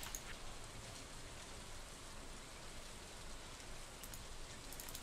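Rain in the farming video game Stardew Valley, a steady soft hiss of falling rain that continues evenly throughout at low volume with no talk.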